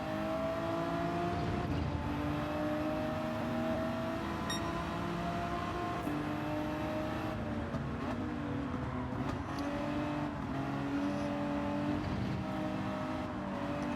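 A race car engine in Gran Turismo 7 drives a drag race to the finish line beside a McLaren, a loud, sustained roar with steady harmonic whine and gear-shift dips, no talking over it.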